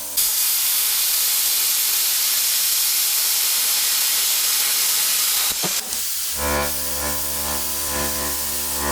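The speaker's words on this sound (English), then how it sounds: "So I'm going to use a plasma cutter." A plasma cutter cuts through steel strip with a loud, continuous broadband hiss, which shifts after a brief break into a steady tonal hum with a harsher buzzing roar.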